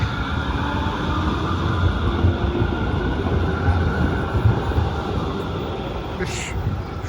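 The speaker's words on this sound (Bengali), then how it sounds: "কলকাতা শহরের মতো ট্রাম গাড়ি," A tram rolls through the Römerberg square in Frankfurt, a continuous rumbling of rails and wheels heard fairly close, with a brief higher squeal near the end.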